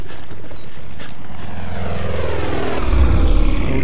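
A propeller aircraft drones overhead in the open-world shooter Far Cry 5, a loud continuous engine roar that swells and grows heavier near the end as it passes close.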